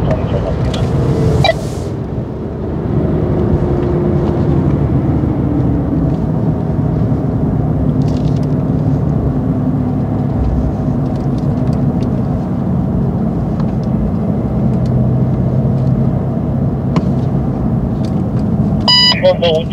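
BMW M5 Competition accelerating on a race track at a driving centre, a steady loud engine and road roar held close throughout, with an instructor's voice over it and a few brief beeps.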